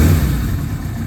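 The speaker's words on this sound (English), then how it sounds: "Settles into a steady idle." A 1981 Suzuki GS850G motorcycle engine idles steadily after a cold start with a little choke still on, a loud, close, even low rumble with no talk.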